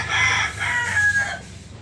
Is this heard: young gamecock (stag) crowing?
yes